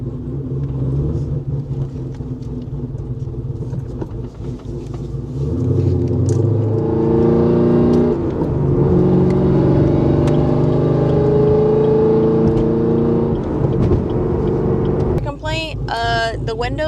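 A Chevrolet Camaro ZL1 1LE driven on a public road, heard from inside the cabin: a deep, loud engine rumble that swells as it revs and accelerates. It carries on steadily for most of the stretch, and a person talks over it.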